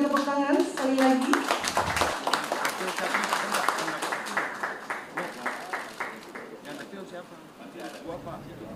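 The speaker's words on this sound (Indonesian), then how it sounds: "Boleh kita berikan tepuk tangan sekali lagi." Audience applause at an Indonesian state ceremony where seized state-loss funds are handed over, a dense crowd of clapping hands that swells after a brief spoken lead-in and fades gradually into scattered claps.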